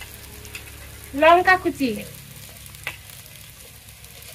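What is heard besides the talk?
ginger, garlic and chilli frying in pan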